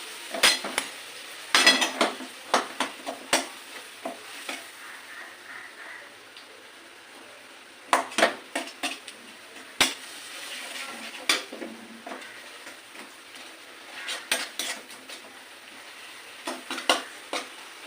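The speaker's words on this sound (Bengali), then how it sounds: "তেল ছাড়া না পর্যন্ত এটা আমি একটু ভালো করে কষে নেবো" Tomato masala for a pointed gourd, egg and potato korma is cooked down in a pan: bursts of spatula scraping and clanking against metal come in clusters over a faint background sizzle.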